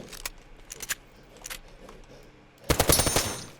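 Gunfire in the video game OutlawZ: a few scattered sharp shots early on, then a loud, rapid automatic burst near the end, close and dense with no talking.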